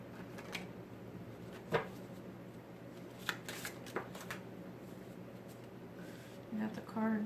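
Tarot cards are shuffled in quiet close-up bursts, soft riffling and flicking sounds scattered across a faint background, with a voice speaking at low level.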